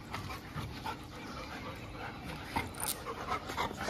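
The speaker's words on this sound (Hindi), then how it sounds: "सैंडी लड़ने का सोच रहा है, ये खेल रहे हैं" Dogs playing and play-fighting, with close panting, scuffling, and occasional whimpers and yips over a busy outdoor background.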